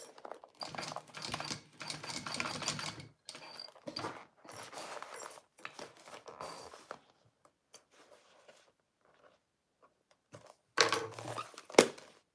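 Sewing machine basting a zipper tab onto a clear boxy bag, a quiet run of rapid stitching bursts broken by pauses, with a few louder clunks near the end.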